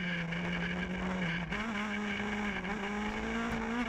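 A Hyundai i20 R5 rally car on a rally stage, its engine holding a steady, loud drone that climbs slightly in pitch as it accelerates, heard close and continuous throughout.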